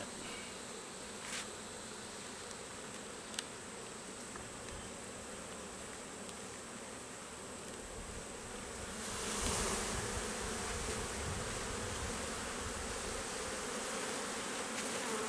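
Honeybees buzz around an open beehive full of honey, a dense steady hum that swells louder partway through. No voices are heard.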